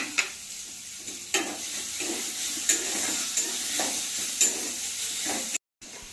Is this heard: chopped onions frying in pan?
yes